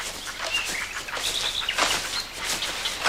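Protected birds call from trees across a river, giving scattered high chirps and short tweets over soft outdoor ambience, moderately distant and fairly faint.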